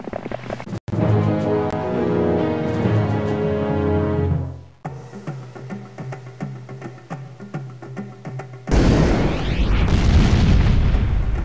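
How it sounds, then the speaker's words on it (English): A loud, deep explosion from a suicide bomb attack in the Heroes of Might and Magic video game bursts in after a stretch of game music and rumbles on steadily to the end. "Suicide bomb."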